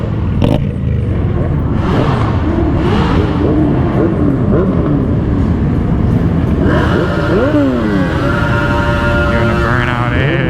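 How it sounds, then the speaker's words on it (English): A motorcycle does a burnout at a big bike meet, its engine roaring loud and close with repeated rising and falling revs over a continuous rumble. "Doing a burnout here."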